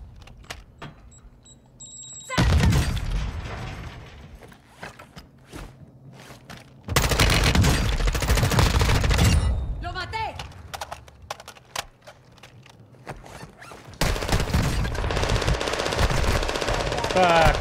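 Automatic gunfire in Call of Duty Warzone rattles in three loud, sustained bursts separated by quieter gaps with scattered single shots, and a voice talks at times between them.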